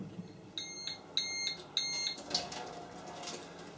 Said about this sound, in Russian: Прозвучал сигнал, что выпечка готова.